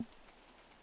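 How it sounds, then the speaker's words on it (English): Rain falls steadily during an outdoor disc golf tournament round in New Zealand, a faint, even wash of patter with no voices. "the rain is coming down"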